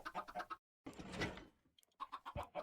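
Chickens in a video game cluck in short, rapid bursts, close and clear, broken by a brief silence and a softer rustling stretch, then more quick clucks.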